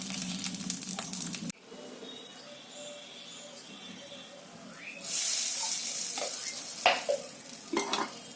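Oil sizzles and hisses in a pan as dried lentil dumplings fry, with occasional stirring scrapes and a louder burst of spitting partway through.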